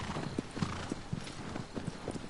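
Quick clip-clop of the mare Agro's hooves galloping in the video game Shadow of the Colossus, with a steady rhythmic beat of fairly close hoofbeats and a faint whinny.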